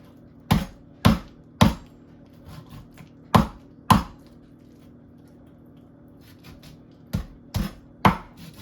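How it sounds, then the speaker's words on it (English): Chicken thigh for Jamaican curry chicken is chopped on a board with a cleaver: sharp, loud thwacks land in quick clusters of three and pairs, separated by quiet gaps and faint handling noises. "And then the thigh part, you can chop it down"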